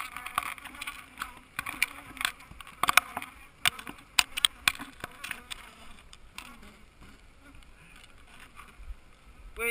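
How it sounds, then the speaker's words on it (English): Bees buzzing close and all around during a honey harvest, with sharp, erratic whines darting past and fading amid scattered handling clatter. "is there bees all over me?"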